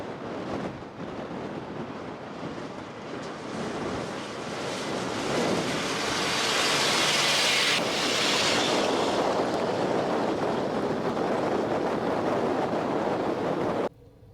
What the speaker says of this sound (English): it is windy out there, isn't it?